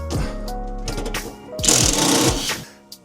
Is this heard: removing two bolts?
yes